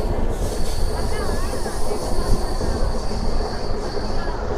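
A train rounds a curve with steady rumbling and high, sustained wheel squeal ringing over the track noise, heard up close for the whole stretch.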